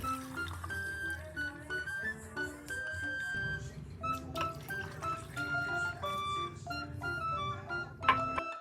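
Milk is poured steadily into glasses of dissolved iced Milo coffee, a soft continuous liquid trickle with light clinks of glass and spoon, fairly quiet and close, with no talking.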